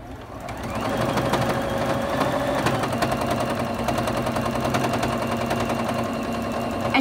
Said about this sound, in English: You can hear my machine is not going full speed